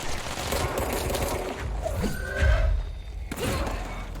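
Gunfire in the video game Control, a dense burst of shots with thuds and a heavier impact midway, loud and continuous over a noisy background, with no talking.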